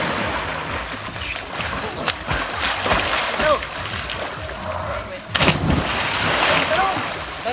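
Sea water sloshes and laps around, then a sharp, loud splash bursts out midway as a person jumps in, followed by churning water; voices are faint.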